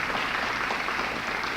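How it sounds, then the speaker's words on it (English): A round of applause for faculty at an evening presentation, a steady, diffuse wash of clapping from an audience heard at some distance. "Let's give them a round of applause"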